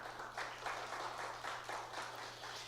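Congregation applauding at a church service, a steady wash of many hands clapping at moderate level with a low electrical hum beneath, no speech.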